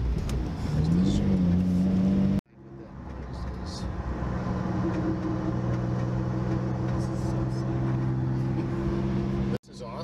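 A Toyota MK2 Supra drives and accelerates, its engine note climbing through a gear and dropping at a shift before rising again, with interior road noise and voices talking in the car.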